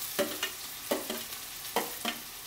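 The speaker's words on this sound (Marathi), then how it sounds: "तेल आता गरम झालेलं आहे. आता आपण त्यामध्ये कांदा टाकून घेऊयात." Onion being stirred in hot oil over a wood-fired stove, faint frying sizzle with four soft scraping strokes at a steady rhythm, no voices.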